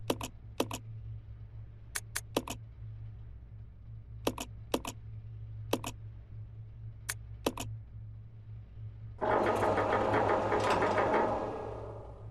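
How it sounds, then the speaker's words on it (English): Metal gate being swivelled in the Resident Evil Zero video game: a series of sharp mechanical clicks and ratchet-like ticks in pairs, ending in a loud sustained grinding scrape, all over a low steady hum. "you have to swivel the gate one last time"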